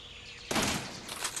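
Gunfire in the video game Gorebox erupts halfway through as a sudden harsh burst of shots and carries on as a dense rattling volley to the end.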